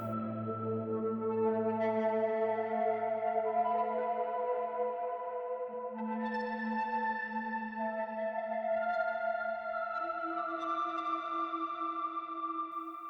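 Sustained synth chords glide between notes, washed in long Black Hole reverb and shimmering, echoing Refract effect overtones that give a spacious, cinematic tone.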